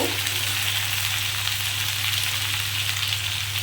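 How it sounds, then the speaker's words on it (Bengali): Pumpkin, ridge gourd and eggplant fry in a pan for a Bengali pui shak chorchori, a steady dense sizzling hiss throughout with faint stirring, with no one talking. "কুমড়ো ঝিঙে বেগুন যা সবজি থাকবে আপনার দিতে পারেন দিয়ে এটাকে ভালো করে নাড়ব"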